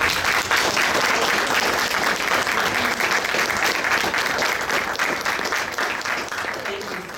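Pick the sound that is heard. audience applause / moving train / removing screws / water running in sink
audience applause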